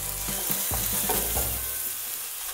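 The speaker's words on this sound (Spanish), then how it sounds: "Y sofreímos muy bien hasta que el ajo empiece a dorar." Freshly ground garlic and cumin frying in a pan for a caigua stew, a steady close sizzle with a few stirring scrapes and knocks early on, no talking.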